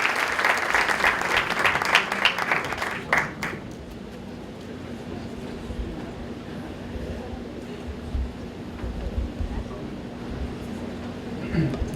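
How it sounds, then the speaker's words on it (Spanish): A hall audience gives a strong round of applause for a married couple about to share their testimony, loud dense clapping for about three seconds that fades into a quieter room murmur with a low steady hum. "Por favor, les pido un fuerte aplauso"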